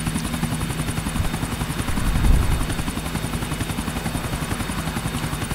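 Helicopter flying in GTA IV, a steady loud rotor chop with a droning engine hum throughout, swelling briefly midway, with no voices over it.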